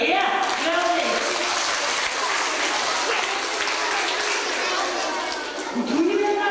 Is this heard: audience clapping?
yes